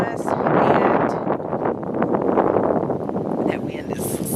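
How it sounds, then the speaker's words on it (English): Loud, steady wind buffeting the microphone, a broad rumbling roar with gusty fluctuations throughout. "that wind is so bad. It's windy today."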